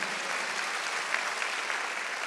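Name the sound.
congregation clapping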